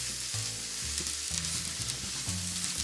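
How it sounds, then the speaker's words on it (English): Potato pieces laid face down in hot olive oil give a steady, close sizzle that hisses continuously throughout, with faint clinks of placement and no talking. "So we can lay these potatoes gently down, face down in the olive oil."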